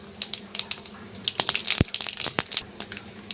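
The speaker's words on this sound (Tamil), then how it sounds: "பேன் ஹீட் ஆகிடுச்சு. இப்போ நான் கடுகு ஆட் பண்ணிக்கிறேன்." Mustard seeds hitting a hot pan, a burst of quick crackling pops and sizzling ticks, close and steady throughout.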